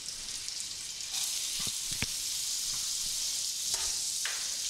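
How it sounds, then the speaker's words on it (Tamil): Ginger and garlic sauté in oil in a pan for a Tamil scrambled fish dish, giving a continuous soft sizzle with a few light stirring taps. "இப்போ இந்த இஞ்சியும் வெள்ளப்பொடியும் போட்டு வதக்குவோம்."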